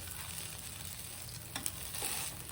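Farali thalipeeth, a fasting-style flatbread, frying on a pan with ghee gives a steady close sizzle, with a couple of sharp scraping clicks as it is flipped, followed by a slightly louder crackle, with no talking.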